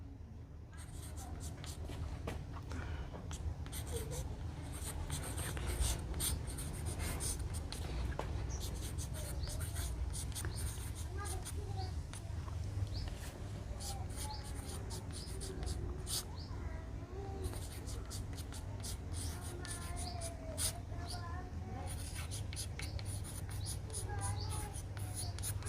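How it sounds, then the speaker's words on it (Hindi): A teacher writes grammar notes by hand for students, faint scratching and tapping strokes scattered through the clip beneath a steady low room hum. "मैं पहचान के लिए लिख देता हूँ"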